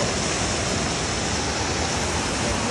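A waterfall and a flowing stream make a steady, dense rush of water that stays constant throughout, with no voices.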